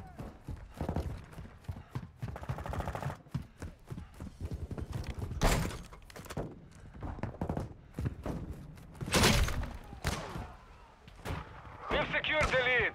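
Modern Warfare 2 firefight with bursts of gunfire and booming blasts scattered irregularly across the scene, loud and close, mixed with shouted voices and game chatter.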